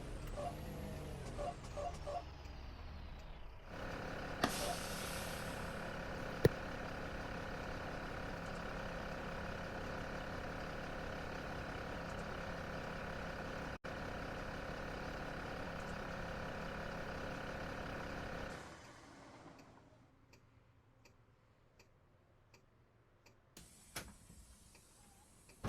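A vehicle engine idles steadily at close range for about fifteen seconds, a constant low rumble with a faint repetitive ticking, then it drops away to quiet ambient noise with a few small knocks near the end.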